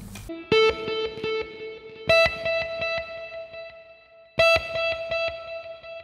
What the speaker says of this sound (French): on entend la reverb qui est aussi sur l'écho